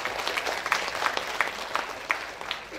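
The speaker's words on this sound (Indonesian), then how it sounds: "Beri tepuk tangan yang meriah untuk wali kota kita." Steady applause from a crowd for a mayor, a dense patter of clapping that holds at an even level throughout.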